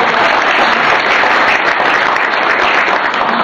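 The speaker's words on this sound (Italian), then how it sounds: "Un applauso." Loud, sustained clapping from an audience at a civic list presentation for a mayoral race in Palazzolo, many hands blending into an even roar with no voices on top.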